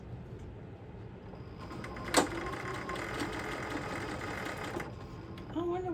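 A large computerized sewing machine stitching a zipper pocket on a tote bag hums and whirs at moderate volume, with a sudden sharp clack partway through and a steady mechanical drone; a faint voice is heard briefly near the end.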